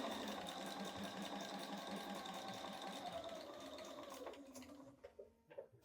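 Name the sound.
sewing machine stitching quilt block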